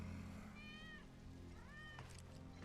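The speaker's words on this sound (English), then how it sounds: "That's Wedge's cat." Wedge's cat in Final Fantasy 7 Remake meows twice, two drawn-out, rising-then-falling cries about a second apart, set over a steady low in-game ambient hum with no talk.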